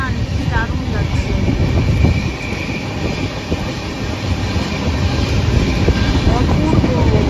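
Train ride past tea gardens on the way to Bhutan: a steady, loud rumble of rolling carriages with rattling wheels fills the whole stretch, close and continuous, with faint traces of voices underneath.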